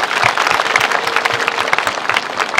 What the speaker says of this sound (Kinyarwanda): Petero Nkurunziza tumukomera amashyi cyane